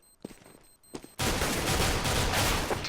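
P250 pistol gunfire in Counter-Strike during a professional ESEA Invite match: a couple of sharp isolated pops, then a sudden loud, dense wash of gunfire noise that lasts to the end.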